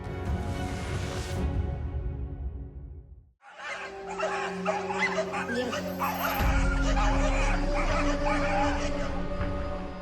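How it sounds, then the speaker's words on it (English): A pack of Greenland Arctic Hound sled dogs in the far north barks and yips continuously, with overlapping excited calls and whimpers close by, after a brief pause and under a steady background rumble. "The Greenland Arctic Hound is a breed of sled dog characteristic of the far north."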